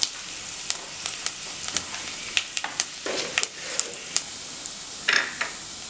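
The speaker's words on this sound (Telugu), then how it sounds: "సో ఈ మసాలా మనకు ఒక ఫ్యూ మినిట్స్ ఫ్రై అవ్వాలి." Masala with garlic frying in a pan for a potato and pea kurma, a steady close sizzle punctuated by repeated ladle taps and scrapes against the pan.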